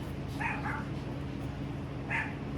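A dog gives two short, high yipping barks some distance away, separated by a pause, over a steady low background hum.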